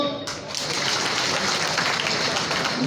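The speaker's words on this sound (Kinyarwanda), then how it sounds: "Amashyi" A crowd claps in a continuous, loud burst of applause that sets in after a brief pause and holds steady to the end.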